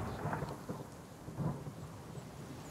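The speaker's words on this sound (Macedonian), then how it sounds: "Насред бело небо, мавна гром и ни врне дошт" Thunder rumbles in the survival video game The Forest, a low rolling boom over steady rain hiss, moderately loud and continuous with no talk.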